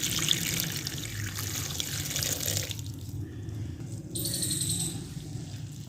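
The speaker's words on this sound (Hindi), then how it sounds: "अभी अब इसमें हम पानी डाल देंगे।" Water pours steadily into a pot holding spinach, a continuous splashing rush that breaks off briefly before resuming; no one speaks.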